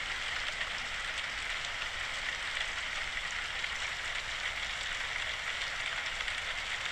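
Steady rain falls in a continuous, even hiss, dense and unbroken, with no voices over it.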